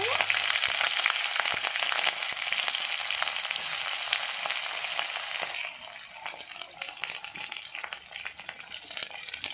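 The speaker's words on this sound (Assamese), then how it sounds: "এয়া মই পিঁয়াজ দিলোঁ" Onions sizzle in hot oil in a wok with a loud, steady frying hiss that carries through and eases a little near the end, with a few stirring scrapes and no voices.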